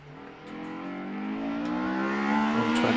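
A Lotus Elise S1 revs on the start line at the Prescott Speed Hill Climb. Its engine note climbs steadily in pitch and grows louder across the clip, a clear, close mid-range whine that builds without a break.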